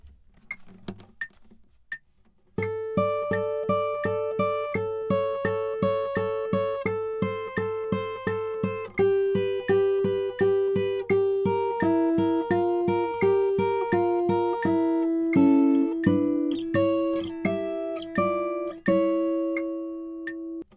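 Acoustic guitar fingerpicks the intro of a song: a few faint taps, then a steady flowing arpeggio of clear plucked notes with a descending bass line, close and alone, settling on a final ringing chord.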